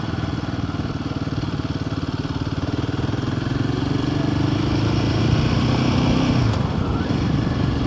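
Engine of a Royal Enfield Himalayan 450 motorcycle in South Shields, a close, steady thrumming pulse that rises slightly in pitch midway, loud and continuous with no talking.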